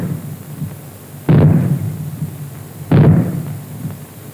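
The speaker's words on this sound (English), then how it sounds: "When fallout is expected, you will hear 3 bangs in short succession" Fallout warning signal from a 1976 nuclear civil defence broadcast: two heavy, booming bangs about a second and a half apart, each followed by a short rumbling decay over a low steady hum.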